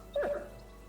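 A dog in the Kingdom Come Deliverance 2 video game gives a short whimpering yelp with a brief bark-like cry, one quick vocal burst that fades into a quiet background.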